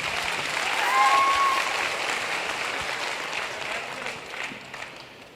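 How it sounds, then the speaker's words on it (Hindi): Applause from an audience at a motivational speech swells quickly to a full, bright clapping peak, then gradually thins and fades, with a faint tonal sound briefly audible early on. "ठीक है, बजा लो तालियां, ठीक है?"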